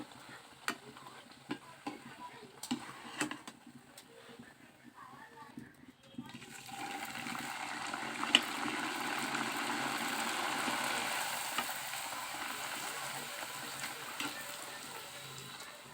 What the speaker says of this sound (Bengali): এভাবে একটু লাল লাল করে আমি লুচিগুলোর প্রত্যেকটা লুচি ভেজে নেব